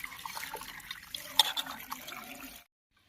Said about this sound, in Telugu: ఉప్పు నీళ్ళు వేసి కడగాలి సరే వేసుకుని వాష్ చేసుకోవాలి